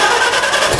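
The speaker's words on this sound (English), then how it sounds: "We'll start the tractor up." Farmall tractor engine during a 6-to-12-volt conversion, a brief loud burst of mid-pitched engine roar, close and continuous for under a second with no talk.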